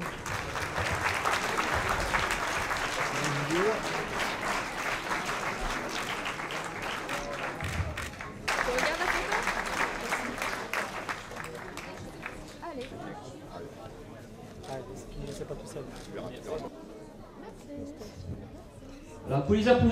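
Athletes are applauded at a 2017 athletics trophy ceremony in the Aude: a roomful of clapping in two bursts, then thinning into quieter scattered claps and chatter, with voices heard through it.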